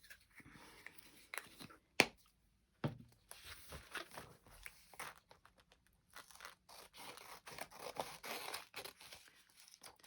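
Scissors trim the edge of a magazine page for a glue-book collage, giving scattered close crisp snips and paper rustles with one sharp click near the start and quieter stretches between.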